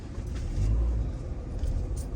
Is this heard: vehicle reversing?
yes